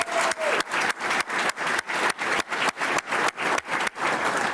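An audience at a Jacksonville police promotion ceremony claps in unison, a loud, regular beat of crisp collective claps repeating about every third of a second without pause.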